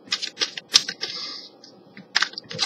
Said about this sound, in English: Okay, so I'm shuffling the cards.